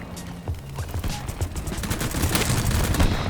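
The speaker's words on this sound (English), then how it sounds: "The Deagle go burr." Desert Eagle pistol shots in Battlebit Remastered, a rapid series of loud close reports over busy game noise and distant battle sounds.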